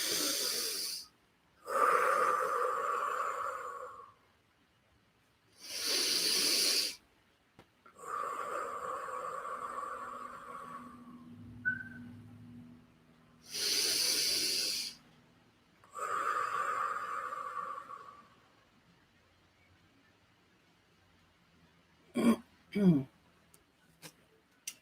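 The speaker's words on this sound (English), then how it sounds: "3 deep breaths. Anybody can go along with me." Three slow, deep breaths, each a long audible inhale then exhale through the nose and mouth, loud and close with pauses between, followed by a few faint clicks.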